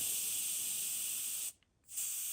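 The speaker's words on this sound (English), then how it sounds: "Now you can hear the compressed air escaping." A loud, steady hiss of pressurized butane escaping a torch lighter valve during purging, cutting off briefly for a moment before resuming just as strong.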